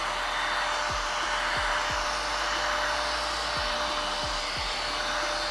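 Steady, loud whooshing blow of a heat gun warming vinyl wrap while it is peeled off a car body, a continuous airy roar with a few faint low clicks underneath.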